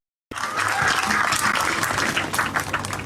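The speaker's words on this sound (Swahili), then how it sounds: "Tuwapigie makofi mazuri." Audience applause at a graduation ceremony for an empowerment and training programme in Kenya, a dense, sustained burst of many hands clapping that begins abruptly and stays loud and steady throughout.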